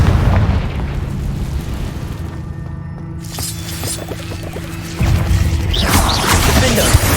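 A Confringo blasting spell explodes in Hogwarts Legacy, loud booming blasts and crashes over a dense, rumbling game soundscape with music underneath.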